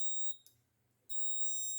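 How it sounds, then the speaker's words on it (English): A flame sensor module's buzzer, wired without an Arduino, sounds a steady high electronic tone when a flame is detected. It cuts off briefly, then resumes and holds steadily, loud and close. "When there is a flame, both LED and buzzer are on."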